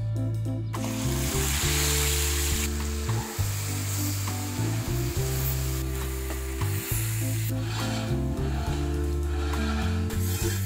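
Chopped onion fries in a pan of hot oil for besan gatte sabzi, a loud steady sizzle with stirring scrapes and a low tonal music bed running throughout.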